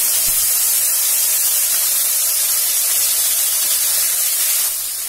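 Spice paste sizzling loudly in a hot pan while cooking Kashmiri-style potato curry (aloo dum), a steady broadband hiss that holds evenly throughout and eases slightly at the very end.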